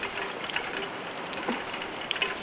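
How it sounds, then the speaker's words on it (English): Snowmelt from a roof runs and drips down a drain pipe outside in a yard, a steady trickling wash with a few faint knocks and splashes, continuous and fairly quiet. "Hear it going down the pipe, the drain pipe."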